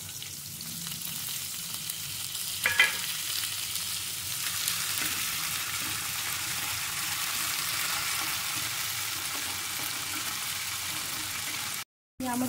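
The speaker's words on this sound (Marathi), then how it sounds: "त्यामध्ये आपण भिजवलेली डाळ टाकणार आहोत." Soaked lentils (dal) sizzle and fry steadily in a hot pan along with dill greens, a continuous loud crackle with a brief stir clatter near the start and a short break near the end.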